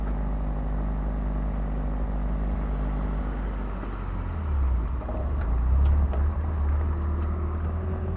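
A manual car's engine idles steadily while a learner driver works the clutch, a low rumble that swells and deepens midway as the revs rise, with a few faint clicks.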